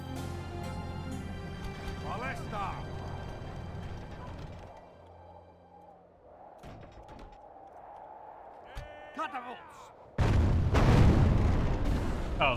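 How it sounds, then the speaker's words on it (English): Catapults hurling rocks in Medieval 2 Total War sound like cannon fire: a few deep booms over battle ambience and distant bleating, ending in a loud heavy crash, with no talking. "The sound of them launching those rocks is like a cannon"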